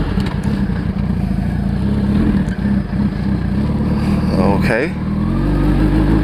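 A motorcycle runs steadily in a quiet residential parking area, its engine a loud continuous drone as the rider squeezes the clutch and brakes, ending in a short squeal near the end; a rider speaks briefly over it.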